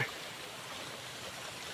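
Strong current of a large river rushing steadily, a broad continuous watery hiss, faint and even, with no voices.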